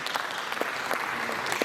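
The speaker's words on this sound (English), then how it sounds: "Clap for yourself." A group of students claps briefly for themselves at an induction, a short burst of scattered, moderately loud hand claps in a room.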